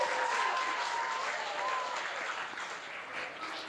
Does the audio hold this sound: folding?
no